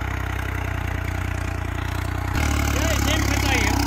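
A 3630 4WD farm tractor engine runs steadily with a continuous low throbbing drone that grows louder and rougher partway through, as if pulling harder.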